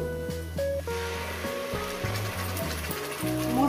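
Spices hiss and sizzle as they hit fried onion in a pan while katla fish curry is being made; a steady, quiet frying crackle runs under background music.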